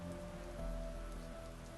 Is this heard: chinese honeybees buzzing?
no